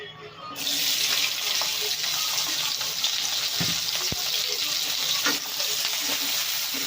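Onion and green chilli frying in oil for a ridge gourd and potato posto, a loud sudden hiss that settles into a dense, steady sizzle close by, with a few faint stirring knocks.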